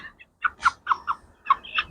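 Chickens cluck in a run of short, sharp calls at close range, about half a dozen bursts with brief gaps and no voices.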